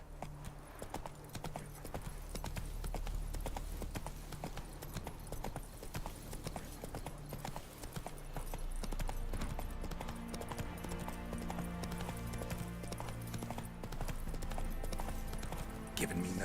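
Horse hooves clop rhythmically at a steady gallop in The Witcher 3: Wild Hunt, a fast continuous beat with game music swelling behind it and a voice speaking occasionally over the ride.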